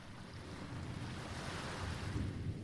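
Ocean waves washing around a wooden pirate ship at sea, a steady rushing surf with a low rumble and wind noise, continuous and fairly close.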